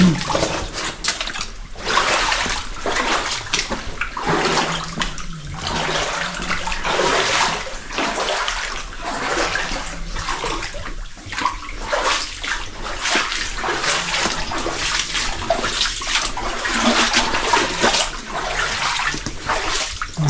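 Continuous rushing and splashing of flowing water echoing in a short underground mine chamber, steady and fairly loud throughout.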